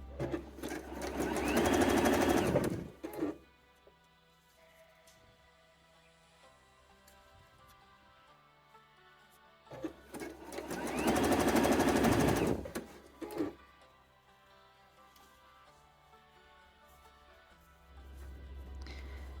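A sewing machine stitches the side seams of a reversible swimsuit top in two loud, steady bursts of rapid needle chatter. A long quiet stretch with faint handling noises separates the bursts.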